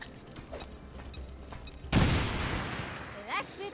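A frag grenade blast in XCOM: Chimera Squad bursts in loudly after a tense stretch of muffled battle ambience, followed by crackling gunfire and rumbling debris that fades into a brief tonal game cue.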